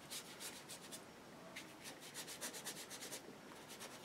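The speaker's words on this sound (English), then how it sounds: "A bit of scrubbing." A paintbrush scrubbing watercolour paper in quiet, close, rapid bursts of soft rubbing, a faint bristly swishing that comes in irregular clusters with no talk.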